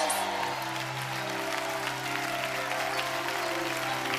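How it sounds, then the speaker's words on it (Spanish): A crowd at a church gathering applauds with steady, fairly quiet clapping that runs throughout, mixed with a sustained musical tone underneath. "¡Ese aplauso!"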